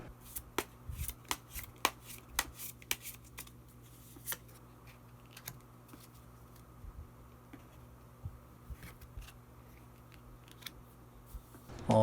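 A deck of tarot cards is shuffled and drawn, giving crisp, irregular snaps and riffling flicks up close over a low steady hum, with no talk.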